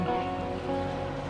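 A river flows beneath a road bridge, a steady, loud broadband rush of water with a faint low hum running underneath, continuous and unbroken with no voices.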